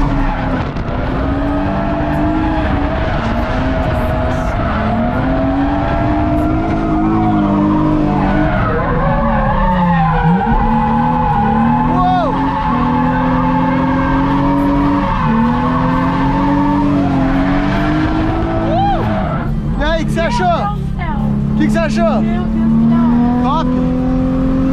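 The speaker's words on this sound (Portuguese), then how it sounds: "eu vim pra Piracicaba só pra treinar drift de verdade" A car drifting on a race track in Piracicaba, Brazil, its engine roaring loud and close with revs rising and falling as the tires skid and squeal in long continuous slides.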